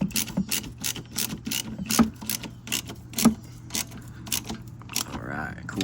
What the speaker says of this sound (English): Put the wrench on it.